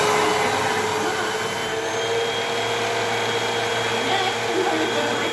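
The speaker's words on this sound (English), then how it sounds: "Next, I'm going to turn the vacuum on." An upright household vacuum cleaner runs after its power button is pressed by foot, a steady loud whirring motor drone with a low hum that holds evenly throughout, with no voices.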